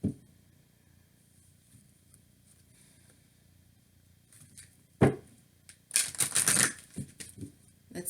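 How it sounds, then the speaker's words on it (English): Tarot and oracle cards are shuffled and pulled: a quiet stretch broken by a thump, then a dense burst of crisp card riffling and flicking close up, with no talking. "Now let's pull you a love oracle card."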